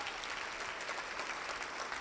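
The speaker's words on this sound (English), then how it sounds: "Yeah, that's worth a round of applause." An audience at a Rotary luncheon gives a round of applause for a museum's 50th anniversary, a faint, even patter of many hands that holds steady throughout.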